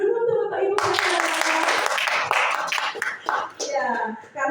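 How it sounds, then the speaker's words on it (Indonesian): A room of teachers at a school training session briefly claps, a short burst of hand clapping mixed with talking voices, which carry on as the clapping dies away. "Tepuk tangan dulu untuk Bapak Ibu"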